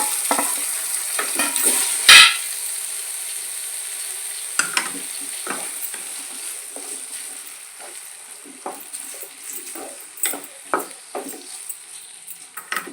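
Tomatoes frying in a pan for an egg tomato curry, a moderate sizzle with a loud clank early on and scattered utensil scrapes and taps throughout, with no voices.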